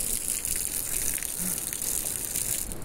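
Water gushes from a beach shower tap onto bare feet, a steady close rushing splash that fills the whole moment without a break.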